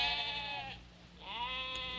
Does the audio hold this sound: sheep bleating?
yes